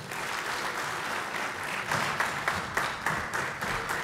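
An audience applauding after a speech at a formal event, with steady crowded clapping that carries a few sharper individual claps near the end.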